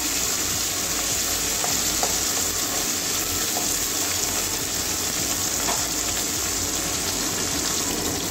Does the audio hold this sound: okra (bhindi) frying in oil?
yes